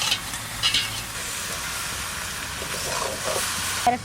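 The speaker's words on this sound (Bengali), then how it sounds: "আলু আর পেঁয়াজ দিয়ে ভাজা ভাজা হয়ে গেছে এবার দিয়ে দেবো মাশরুম" Mushrooms sizzling in a pan with potatoes and onions being fried, a steady close hiss with light stirring scrapes, no voices.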